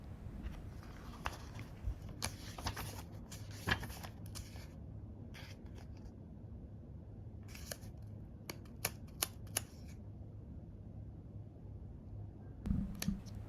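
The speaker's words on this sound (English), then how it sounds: "I love the soft sound of the pages rubbing together." Pages of a paper book rub and turn during quiet reading, producing soft intermittent rustles and brief crisp swishes separated by near silence, close and gentle.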